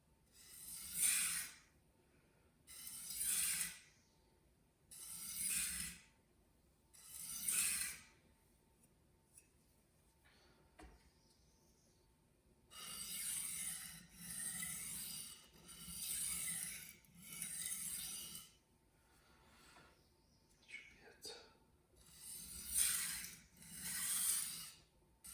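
A KAI santoku knife in VG10 steel is drawn across a waterstone in slow, regular sharpening strokes. Groups of soft, gritty swishes come at a steady rhythm with short pauses between sets, faint and close.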